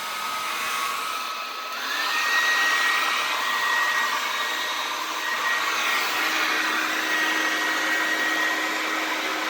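A hair dryer blows steadily and close by, a continuous whooshing whine with a slight pitch shift partway through and no talk.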